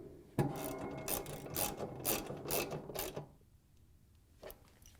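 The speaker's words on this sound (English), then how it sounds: "we can use our 1/2-inch socket and ratchet to put the bolts in all the way around the" A 1/2-inch socket and ratchet tightening the tub bolts on a Frigidaire/Electrolux washer, heard up close as a run of quick rhythmic ratchet clicks in short bursts for about three seconds, then a single faint click after a pause.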